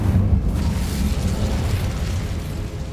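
The Incendio fire spell is cast in Hogwarts Legacy, a loud whooshing, booming burst of flame that roars steadily for a few seconds with a heavy low rumble.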